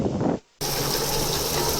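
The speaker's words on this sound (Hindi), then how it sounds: "बस हमने 1 गिलास पानी डाल दिया है।" A glass of water is poured into a pot of chicken feet (paya) with spiced masala, giving a close gushing splash that cuts off briefly and then resumes steadily.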